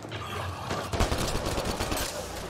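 Gunfire in Mass Effect Andromeda, a rapid volley of close, sharp shots cracking in quick succession over a dense battle din, with no voices.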